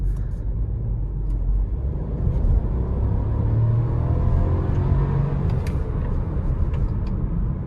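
A 2021 Audi A3 Sportback with a 1.0 TFSI 110 hp engine driving on the road, with a steady low engine and road rumble throughout, heard from inside the car with no talk.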